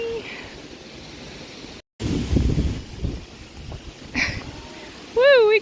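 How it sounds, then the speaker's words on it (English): Wind gusts buffet the microphone in heavy, rumbling bursts outdoors on a small farm in northern British Columbia, with a brief cutout and a whooping voice near the end. "the wind is sure gusting"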